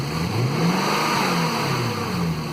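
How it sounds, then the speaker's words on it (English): A car engine runs nearby with a steady hum, its pitch rising and falling slightly in gentle revs. "So the engine is running"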